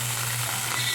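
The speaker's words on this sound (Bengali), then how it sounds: "ভালো করে এটাকে আমি ভেজে নেবো মাছগুলোকে।" Prawns fry in hot oil for a prawn and cabbage curry, a close, continuous crackling sizzle with a low steady hum beneath it.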